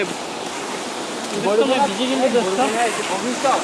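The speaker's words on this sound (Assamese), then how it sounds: "বৰষুণৰ পানী" Rainwater streams and rushes steadily near a temple, a continuous broadband wash of flowing water with voices talking over it from midway through.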